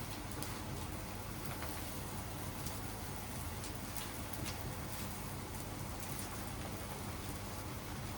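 Steady, even rain hisses continuously with occasional faint droplet ticks and no voices.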